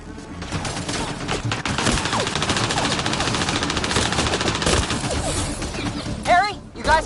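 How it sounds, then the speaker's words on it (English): Dense, loud machine-gun fire rattles without pause in the Mass Effect video game, layered with shouting voices and ending in a brief whooshing effect. "Just keep firing, we can do this!"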